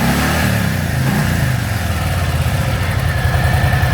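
A black Harley-Davidson Softail Standard FXST with about 10k miles runs at close range, its V-twin engine thumping in a steady lumpy idle that lifts slightly in a short blip.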